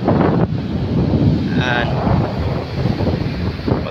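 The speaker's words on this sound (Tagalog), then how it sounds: "Ayan na, lumakas na yung hangin. Ayan oh, lakas ang hangin oh." Strong wind at sea buffets the microphone on a fishing boat, a loud, steady gusting roar that never lets up, with someone speaking briefly partway through.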